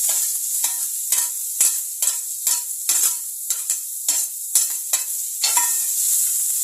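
Onion sautéing in oil on a cast iron dosa tava: a steady, bright sizzle broken by a dozen or so quick, rhythmic scraping strokes of a spatula, close and fairly loud, with no voices.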